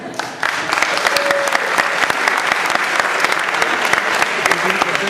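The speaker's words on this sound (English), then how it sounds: "Big round of applause for both." Audience applause at a student Diwali magic show, starting abruptly and holding as a dense, loud wash of clapping with distinct individual claps throughout.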